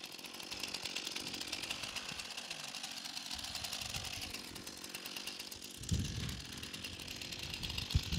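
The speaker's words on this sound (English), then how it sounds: "to show that these chainsaws perform differently with the different chain types on them" A chainsaw roars steadily at high revs, with a brief surge in load near the end as it bites into wood.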